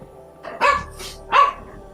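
Pet dog Cookie barks twice indoors, two loud, close barks about two-thirds of a second apart, with a low background hum and no talking.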